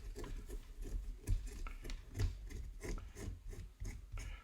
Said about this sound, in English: we want to scrape away that parting line around the whole sculpture